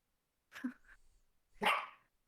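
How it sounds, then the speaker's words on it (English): A dog barks twice, close and fairly loud, with a short gap between the two harsh barks and near silence around them. "it's my dog"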